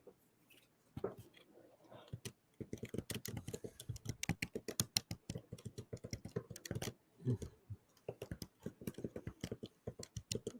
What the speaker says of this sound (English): I'm just typing on my laptop, and I've done it before.